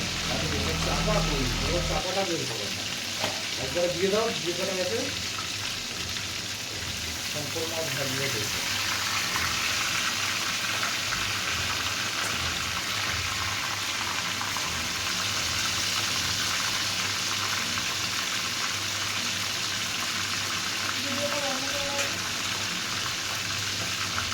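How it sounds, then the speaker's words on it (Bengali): Fish fries in hot oil in a home kitchen wok, a steady hissing sizzle throughout. Someone talks over it early on, with a louder burst at the start. "এই দেখো দেখেছো কীরকম জোরে ফাটলো মাছটা"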